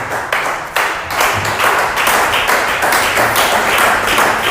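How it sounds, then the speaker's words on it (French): A church congregation applauding loudly for God, steady vigorous clapping from many hands close by, sustained and energetic throughout. "On acclame très fort pour Dieu."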